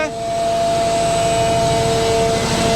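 Loud, steady roar of running mineral foam production machinery with sustained tonal whine, close and continuous, someone talking over it.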